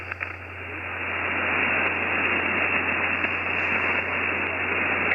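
Steady broadband hiss of S4-level noise on a ham radio band, heard outdoors in the woods, with a low constant hum beneath; loud, continuous and unchanging, with no voices.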